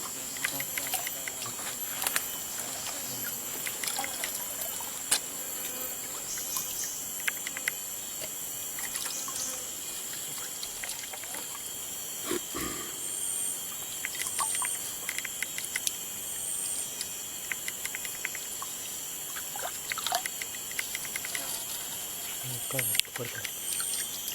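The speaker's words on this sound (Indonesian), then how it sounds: "Hujan bro." Rain patters steadily outdoors during hut-building, a soft continuous hiss with scattered drips, while voices occasionally speak nearby.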